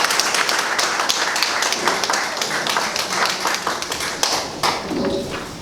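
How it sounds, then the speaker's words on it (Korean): Indoor audience applause greeting a member of parliament, a People Power Party leadership candidate, at a Daejeon party office visit: steady dense clapping with some sharp individual claps, a faint voice beneath near the end. "다시 한번 박수로 맞이해 주시기 바라겠습니다"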